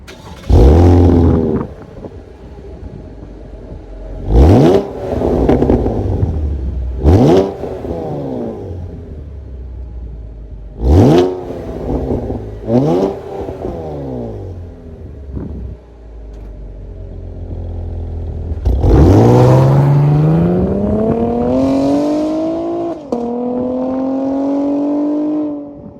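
A 2024 Chevy Camaro 1LT with a 3.6-liter V6 and active exhaust fires up, then revs sharply over and over, with repeated loud blips and falling engine tones. One longer rev climbs near the end, close and loud.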